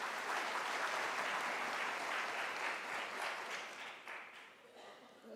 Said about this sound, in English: can we give a warm round of applause to Dr. Tlongwane?